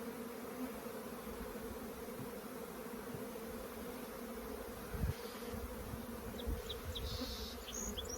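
Honey bees in an open hive during a colony split, brood and nectar-filled frames exposed: a dense, steady, low buzzing drone of many bees close by, continuous throughout with a few slightly louder swells.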